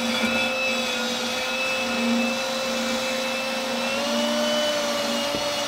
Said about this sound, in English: you can take a drill with the brass brush that's included, and you just go around